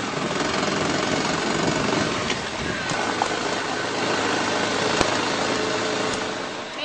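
A dirt bike engine runs steadily at a loud, close idle, a constant buzzing drone with a few small clanks and knocks mixed in.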